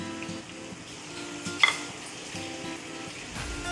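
Green chicken masala with yogurt sizzles and fries in a pan while being stirred, a soft steady crackle with a brief clink of the utensil against the pan partway through.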